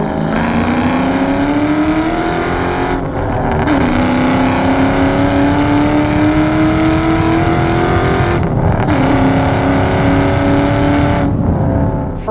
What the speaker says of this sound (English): That downshift sounds badass.